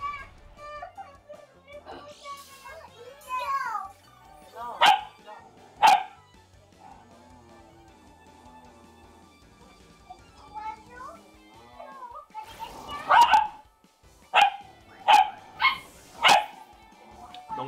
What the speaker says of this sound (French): Donc désolé pour les bruits de chien